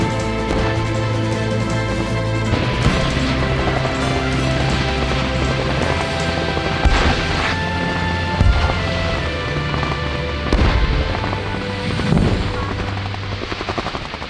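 Heavy firepower at a large military drill of artillery, rocket systems, anti-air guns and tanks, a dense continuous roar with repeated booms and bursts of rapid fire over a steady droning rumble.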